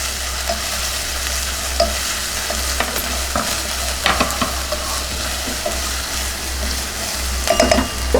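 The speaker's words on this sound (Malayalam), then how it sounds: "ഇഞ്ചിയും വെളുത്തുള്ളിയും കൂടെ ചതച്ചിട്ട് കൊടുക്കാം. നന്നായിട്ടൊന്ന് വഴറ്റി കൊടുക്കുക." Steady frying sizzle of crushed ginger and garlic sautéing for pepper chicken, with scraping and stirring clatter from a utensil in a pan, continuous throughout with occasional louder knocks.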